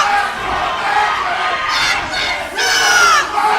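Dense, roaring crowd noise at a professional wrestling show in Pompano, swelling into loud cheers and yells near the end, with a commentator talking over it.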